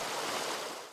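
A mountain creek flowing past a rural valley village, a steady close rush and babble of water filling the moment with no voices.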